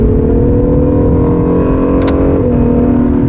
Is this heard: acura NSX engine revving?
yes